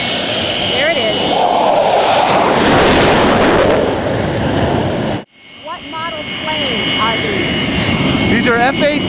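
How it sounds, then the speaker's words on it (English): F-18 Super Hornet jets land on the aircraft carrier USS Nimitz with a loud, roaring engine rush that swells, briefly cuts out, and then returns. Voices can be heard close by over the jet noise. "These are F-18 Super Hornets."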